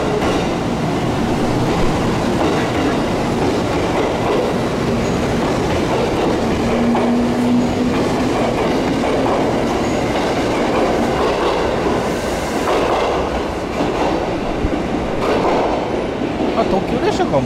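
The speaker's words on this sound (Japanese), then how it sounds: "あ貨物列車がね、ここ来る。" A freight train passes through Kagoshima-Chuo station with a steady rolling rumble and rhythmic clickety-clack of wheels on rail joints, a faint wheel squeal along the way, and people talking nearby in the background.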